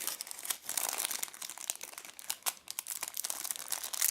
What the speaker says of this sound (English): Let's go ahead and unwrap this plastic packet